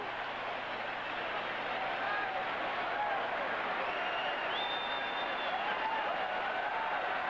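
Big stadium crowd at a 1983 college football game applauding a parachutist's landing, a broad, distant wash of clapping and murmur under an announcer's voice.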